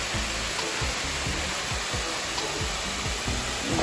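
A waterfall in the Caparaó mountains roars as a steady, dense rush of falling water, close and continuous with no talk over it.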